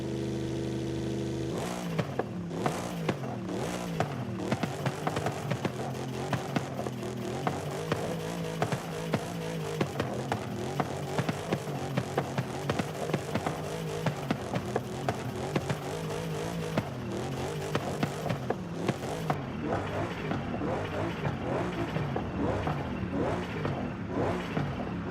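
A car engine in Forza Horizon 5 revs and accelerates continuously, its pitch climbing and shifting through gears, steady and fairly loud without any voices.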